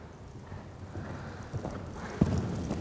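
Horse hooves trotting over cavaletti poles in a riding lesson, a steady run of soft clip-clop beats with a sharper knock near the end, under faint background sound.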